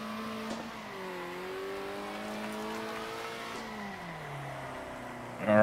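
A race car engine in the video game Circuit Superstars whines through rising gear changes, pitch climbing and dropping repeatedly, with a loud burst at the end.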